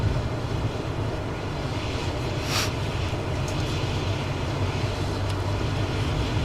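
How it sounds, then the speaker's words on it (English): A steady, loud engine drone from an airplane in Microsoft Flight Simulator 2024 holds a constant rumbling roar for the whole stretch, with no voices over it. "The plane actually sounds like it's about to fall apart."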